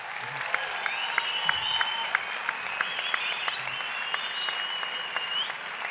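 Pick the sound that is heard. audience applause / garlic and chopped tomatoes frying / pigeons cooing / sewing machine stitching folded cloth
audience applause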